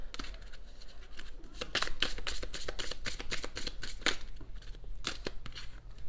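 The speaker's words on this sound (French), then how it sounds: "on va encore voir avec les cartes" Tarot cards are shuffled during a reading, a close, crisp run of riffling flicks and slides in uneven bursts, with no talk over them.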